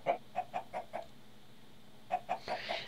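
A chicken in the game Minecraft clucks five times in a steady run, goes quiet, then clucks four more times over a rising noisy wash, close and moderately loud.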